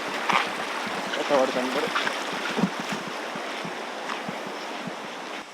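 A river stream rushes and splashes beside a village path near Syankhudi, a continuous close wash of water that stays steady throughout while people talk briefly over it.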